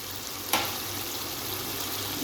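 Green chillies go into a pan of frying bhindi keema, a single sharp clack at the start followed by a steady, moderately loud sizzle of cooking okra and mince with no talking.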